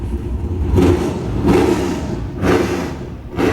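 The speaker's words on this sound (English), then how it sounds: "our ears were assaulted by the sound of something fast and obviously noisy being revved" A nearby engine revs loudly in repeated bursts, roaring up and dropping back roughly once a second, with no talking.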